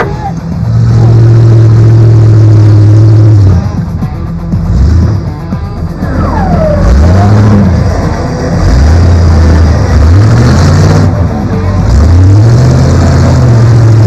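Engine of an off-road competition truck, the Raptor, revving in repeated rising and falling surges, loud and close, during a winch-assisted climb at the 2002 Top Truck Challenge, with no talk over it.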